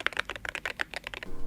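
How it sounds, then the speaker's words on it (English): Computer keyboard typing recorded close up for ASMR, a quick run of crisp, evenly spaced key clicks that stops abruptly, with nothing else heard. "keyboard ASMR?"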